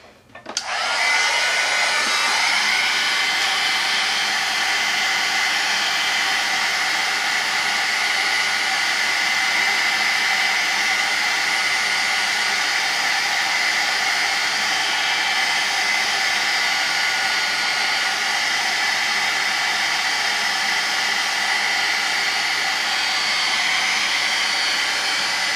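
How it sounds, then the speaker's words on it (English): Heat tool blowing steadily to dry damp glass bead gel on a mixed-media art journal page, a loud continuous whooshing hiss that starts abruptly and holds unbroken for the whole stretch, with no talking. "So I'm going to heat dry that for a second because it's still pretty damp."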